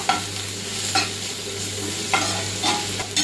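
Ginger garlic paste sautéing for pav bhaji, with steady sizzling and a spatula scraping and stirring the pan in several sharp strokes, close and fairly quiet over a low hum.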